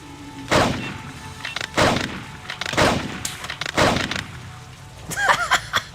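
Gunfire in the Blade Runner video game: four loud, sharp blasts spaced roughly a second apart, each with a boomy decay, followed by a short burst of clattering tones.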